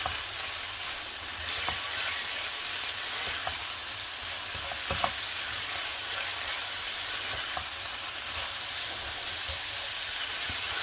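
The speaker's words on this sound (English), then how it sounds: "We're going to fry that for a couple of minutes." Grated carrots for a shepherd's pie fry in a pan with a steady, dense sizzle that holds at an even level throughout, with a few faint scrapes and ticks poking through.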